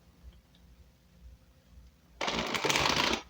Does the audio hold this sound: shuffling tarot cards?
yes